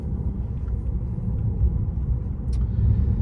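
Steady low rumble of tyre and road noise inside a 2025 stalkless Tesla Model 3 cruising on a hill at around 55 km/h, continuous and even with no talk.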